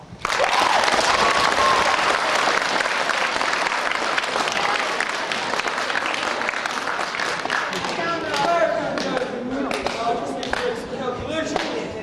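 An audience at a high school drama production breaks into sustained, loud applause, dense clapping that continues throughout with some shouting and voices mixed in toward the end.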